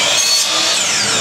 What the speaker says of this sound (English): So I've got a dust extractor on the back of this drop saw